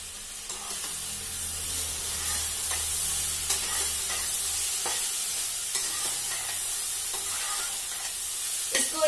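Vegetable fried rice being stirred in a pan, a steady hissing sizzle running throughout, broken by repeated spatula scrapes and taps.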